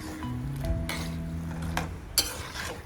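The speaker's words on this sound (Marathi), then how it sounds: "काजू हे मंद आचेवरच तळायचे आहे." Cashews stirred in hot oil over a low flame for poha chivda, giving a faint, soft sizzle under repeated scraping and light metal clinks from a spoon against the pan.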